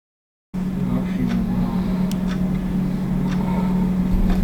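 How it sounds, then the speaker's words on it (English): Steady droning hum of a hot car's engine cooling fan running after a crash in a field, following full-throttle driving, continuous and close with a strong low tone and little change throughout. "You could hear the engine fan. The engine was hot after running full throttle."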